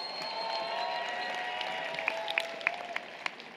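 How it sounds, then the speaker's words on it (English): A commencement crowd applauds and cheers for a vocalist and sign language interpreters, the clapping broad and steady at a moderate distance, with a few louder individual claps standing out as it tapers. "How about another cheer for our vocalist,"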